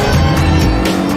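A Noble sports car engine growls loud and close while driving, a steady dense roar with no talking.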